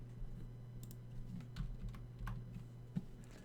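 Faint, sparse clicks of a computer keyboard as Shift and arrow keys are pressed, soft and close against a low steady hum.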